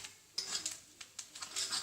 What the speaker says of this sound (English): I'm just cooking those eggs in the middle of the pan,